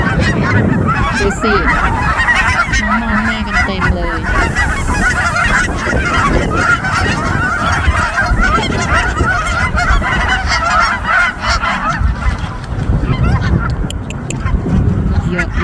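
A flock of Canada geese honks continuously and loudly by partly frozen water, many overlapping calls filling the air with steady low background noise.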